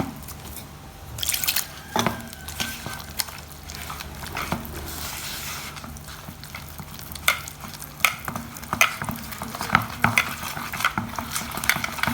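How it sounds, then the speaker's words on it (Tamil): Mung bean batter being mixed with water by hand for Jaffna-style paniyaram, giving wet, squelching stirring sounds with drips and occasional clinks of a bowl, close and moderately loud with no talking. "கொஞ்சம் கொஞ்சமாக தண்ணி விட்டு கரைச்சி எடுக்க போகிறோம் கையால்."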